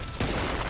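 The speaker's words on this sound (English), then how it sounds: "Fireworks!" Fireworks bursting in a TV series episode, Moon Knight season 1 episode 4, a dense crackling burst that swells after a brief quiet start and stays loud to the end.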